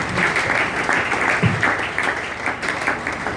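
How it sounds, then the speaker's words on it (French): Applause from a church audience fills the room, a dense sustained patter of many hands clapping at close range, with a faint voice briefly underneath. "Acclamons d'abord pour les thèmes."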